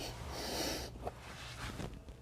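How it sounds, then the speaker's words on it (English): A person sniffs old, varnished fuel that sat for months in the tank of a Polaris 900XP: a sharp nasal snort, then softer breathy sniffs close to the microphone over a low background hum. "Let's give her the old sniff test."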